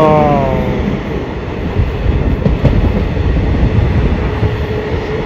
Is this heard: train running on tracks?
yes